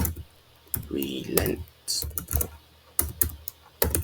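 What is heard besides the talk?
typing a file name on a computer keyboard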